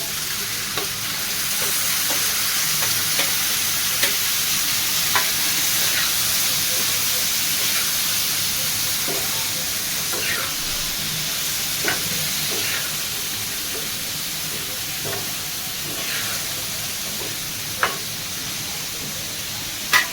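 Onion and tomato fry in plenty of oil in a pan for a home-cooked chicken curry, a steady close sizzle with occasional clicks and scrapes from stirring.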